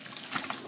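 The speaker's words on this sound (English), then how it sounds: "We're gonna pour the pasta into the sink" Hot water and pasta pour from a pot into a sink strainer, a brief, soft, steady gush of splashing liquid.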